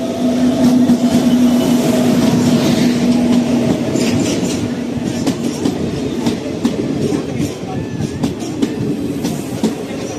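Passenger train on the Secunderabad to Sainagar Shirdi route heard from inside a carriage, with a loud, continuous rolling rumble, a steady hum and repeated wheel clicks on the rails.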